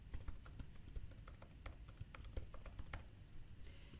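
Fingers type on a computer keyboard, a quick irregular patter of soft clicking keystrokes at close range, quiet and steady with no voices.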